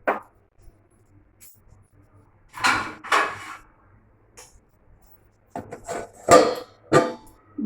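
A lid covering a cooking pot of rice with fried cashews and raisins, heard as several close clattering metal clanks and scrapes in two bursts, separated by near silence, with no talking.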